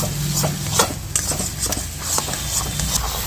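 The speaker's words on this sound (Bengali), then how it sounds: "কচুর শাক আমরা যেরকম নাড়তেই থাকি, এটাও কিন্তু নাড়তে হবে খুব ভালো করে।" Taro leaf curry with eggplant and sauce is stirred in a pan, producing close, rhythmic taps and scrapes of the utensil over a low background sizzle.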